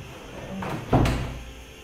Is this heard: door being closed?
yes